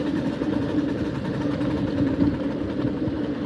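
A steam locomotive at the White Creek Railroad runs steadily nearby, a loud, continuous low throbbing churn with a sustained hum and no pauses.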